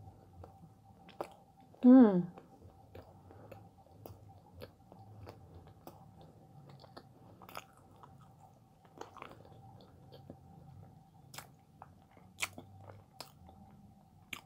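Someone eats castella bread topped with cream cheese. Soft, close chewing sounds are faint, with a brief hummed voice early on and quiet mouth clicks afterward.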